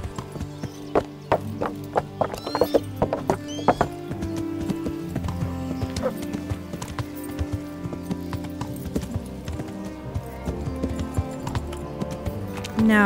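Rhythmic clip-clop of horse hooves over a busy backdrop of game music and effects in Kingdom Come: Deliverance, with a horse whinnying partway through.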